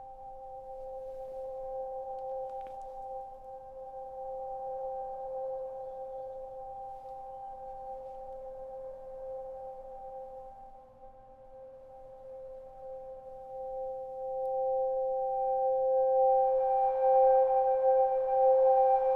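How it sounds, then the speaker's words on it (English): Dark, sustained synth pads hold steady, ethereal tones that swell slightly brighter toward the end, with no voices. "let's just hear how these two pads sound together"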